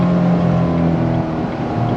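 A C7 Corvette Grand Sport V8 engine drones steadily and loudly from the exhaust at the rear of the car, a deep sustained rumble with no voices over it.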